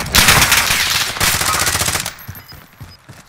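Rapid automatic gunfire from a first-person shooter game, loud bursts of machine-gun fire for about two seconds, then scattered fainter shots trailing off.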